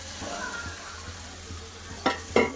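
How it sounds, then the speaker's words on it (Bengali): Spices cooking down in a pan for a Bengali fish curry with cauliflower and potato: a soft, steady sizzle runs throughout, with quiet stirring scrapes and two sharper clinks near the end. "সব মশলা আবার একসাথে খুব ভালো করে কষে নেব"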